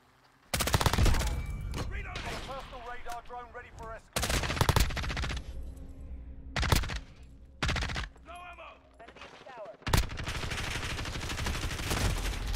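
Gunfire in Call of Duty: Modern Warfare 2019 comes as loud bursts of automatic shots and single reports, with deep booms in between and voices talking over the shooting.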